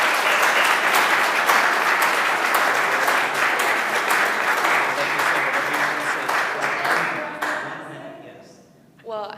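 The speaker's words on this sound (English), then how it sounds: "Let's give her a round of applause." Audience applause at a city council meeting swells into a loud, dense patter of many hands, holds steady, then thins and fades out before a voice begins.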